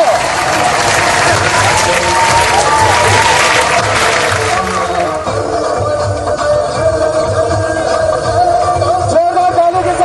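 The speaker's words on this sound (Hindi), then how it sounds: "जोरदार तालियां।" Loud applause at a school annual function for Sudhakar School, with a large audience clapping hard and steadily, then easing slightly in the second half, with no clear speech.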